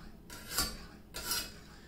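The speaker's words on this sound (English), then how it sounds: "make sure that I sharpen that all the way to the tip" Two separate strokes of a knife blade across a Lansky sharpener's hone rod give close, gritty metallic swishes about a second apart, each rising and fading, with quiet between them and nobody talking.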